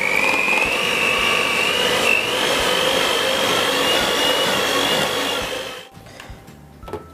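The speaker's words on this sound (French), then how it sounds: "Et avec le batteur, j'en profite, je vais venir détendre un petit peu cette crème." Electric hand mixer whirring steadily as it loosens pastry cream in a bowl, a loud continuous close-up drone for about six seconds that slightly shifts pitch, then cuts off leaving faint clinks.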